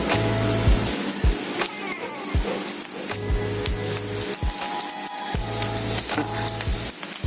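Vegetable zunka made with chival greens fries in oil, a dense continuous sizzle broken by repeated scraping and stirring knocks of a spoon against the pan.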